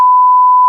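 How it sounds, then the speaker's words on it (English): A single loud, steady censor bleep tone runs for under a second, cutting off sharply at both ends, with no other sound around it. "He's going to have to beep it out again."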